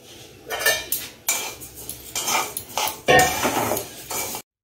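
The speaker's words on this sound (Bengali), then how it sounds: "কড়াই গরম করে খিচুড়ির জন্য ডালটাকে একটু ভেজে নিচ্ছি শুকনো কড়াইতেই।" Lentils for khichuri are dry-roasted in a hot, empty wok, with a metal spatula scraping and clattering against the pan in repeated bursts of stirring, close and fairly loud.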